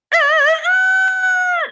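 A human voice imitates a rooster crowing, one loud, sustained harmonic call that wavers at the start and then holds a steady pitch before falling away at the end.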